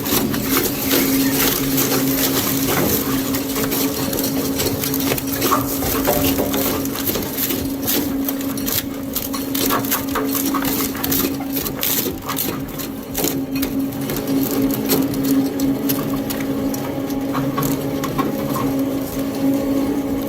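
An Austrian-built industrial paper shredder runs steadily, with a dense mechanical grinding and rapid chattering over a constant hum, loud and continuous throughout.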